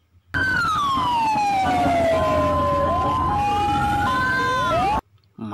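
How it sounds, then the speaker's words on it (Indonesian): A toy fire truck siren wails loudly and steadily, its electronic tone sweeping down and up for several seconds before cutting off abruptly. "kalau yang ini teman-teman, ini damkar."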